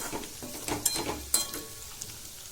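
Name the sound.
potatoes for dum aloo being stirred and fried in pan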